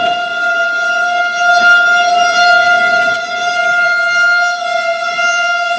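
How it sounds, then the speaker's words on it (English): Tornado warning sirens wail steadily across the town of Chester in Nebraska during a storm, a loud, sustained civil-defense tone with a slight rise and fall in volume and no talking over it. "Sirens in the town of Chester going off."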